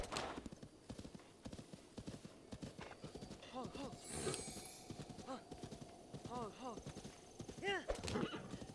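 A horse in The Legend of Zelda: Breath of the Wild trots with steady clip-clop hoofbeats and whinnies several times, under ongoing talk and game sounds.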